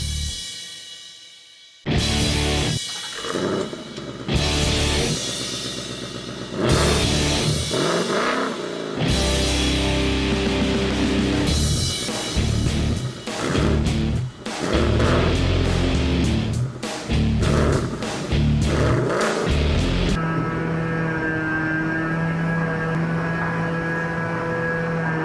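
A Zamboni ice resurfacer drives along with a steady engine drone that swells and dips as it moves, loud and close throughout, settling into a smoother hum near the end.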